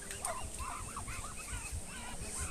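Nasal honking calls from several Chinese ducks in a netted yard overlap at close range, repeating irregularly over a low background murmur.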